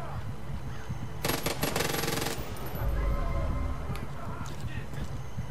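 Submachine gun bursts in the video game Far Cry 5, a dense rapid rattle lasting about a second amid steady outdoor game ambience, followed by softer scattered shots.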